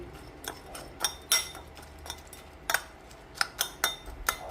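A metal spoon scoops and stirs baby food in a dish, giving a series of light clinks and scrapes at an irregular rhythm, close up and quiet without speech.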